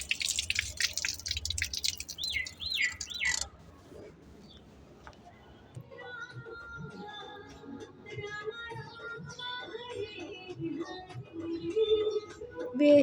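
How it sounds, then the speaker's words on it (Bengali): Water trickles and drips over a ripe sapodilla fruit as it is rinsed by hand. Irregular splashes and drips follow a few seconds of bright chirping at the start. "এটা আমি জল দিয়ে উপর থেকে ধুয়ে নিতেছি।"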